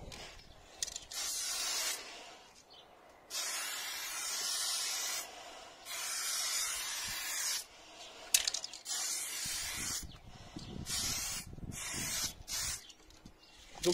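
A spray paint can sprays pearlescent paint in several hissing bursts of a few seconds each, close and steady, separated by short pauses.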